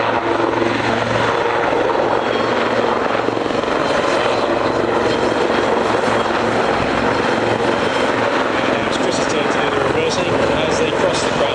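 Westland Lynx helicopters swinging through a manoeuvre at an airshow, a steady loud rotor and turbine roar filling the whole stretch, with a commentator's voice running over it.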